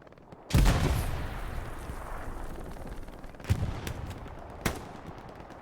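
Gunfire in Hell Let Loose, a competitive WWII-style battle: one heavy, booming shot opens with a long echoing rumble, then a few sharper distant cracks ring out over a steady battlefield din.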